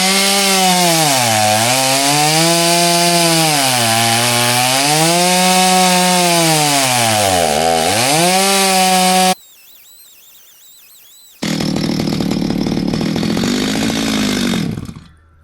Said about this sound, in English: That's the chainsaw where it was working.